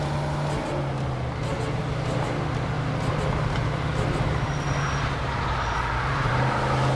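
Car engine in Mafia II, a steady low hum with road rumble throughout, continuous and fairly loud, with faint voice-like sound in the background.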